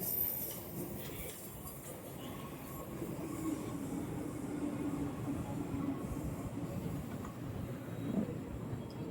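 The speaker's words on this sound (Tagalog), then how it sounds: "Daming train dito." A train rolls past at a distance in the UK, a steady low rumble with faint wheel squeal and clatter that swells slightly midway, heard alone without talking.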